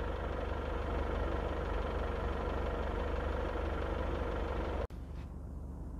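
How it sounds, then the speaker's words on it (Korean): Steady car engine idling with the hood closed, a continuous low hum and rumble heard close up, briefly cut off near the end before resuming. "엔진 후드를 닫아놓은 상태에서 이제 들리는 엔진 소음입니다"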